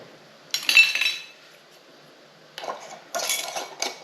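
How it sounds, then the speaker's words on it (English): Metal canning lids and rings clink against glass jars of wild blackberry jelly in a few close, bright rattling bursts separated by quiet pauses. "Let's get these lids on. All right, let me get my rings."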